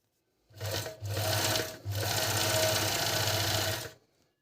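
A Dragonfly GN1-114D four-thread overlock machine stitching stretchy training fabric, loud close whirring in three bursts with brief pauses between them and no talking.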